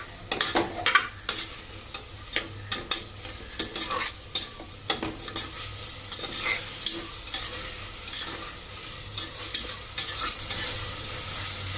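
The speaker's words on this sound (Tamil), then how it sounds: "இதுக்கப்புறம் தக்காளியை சேர்க்குறோம். அதை கொஞ்சம் நல்லா வதங்கணும்" Tomatoes sauté in oil for a mutton kulambu, with a spoon scraping and stirring the pan in an irregular rhythm over a constant low sizzle.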